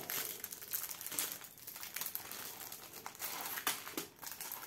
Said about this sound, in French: J'ai déchiré le sachet